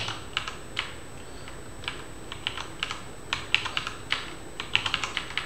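Computer keyboard typing while a command is being set up to run an FFmpeg video-encoding script, a steady run of quiet, close key clicks with irregular short bursts and pauses, alone with no talk.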